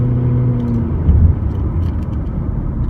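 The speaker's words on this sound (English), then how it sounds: "Got it about half throttle. No trouble accelerating up the hill." A 2020 Honda Civic LX sedan accelerates uphill at half throttle, giving a steady low engine drone and road rumble from inside the cabin that holds even throughout, with a brief swell near the middle.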